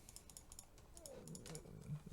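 Typing on a computer keyboard during an SSH remote login to a Jetson board, heard as a faint scatter of soft clicks over a low background hum.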